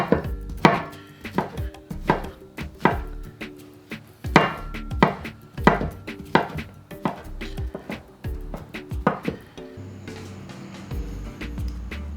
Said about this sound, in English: Take a piece or two, chop them up a bit.